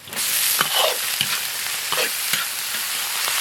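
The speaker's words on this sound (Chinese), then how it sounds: "锅里倒点油，油后下入葱姜蒜、干辣椒，炒香倒入洋芋条、胡萝卜、苦菜" Potato strips, carrots and wild bitter greens stir-fried in oil with scallion, ginger, garlic and dried chillies, a steady sizzle broken by repeated scraping strokes of a spatula in the wok.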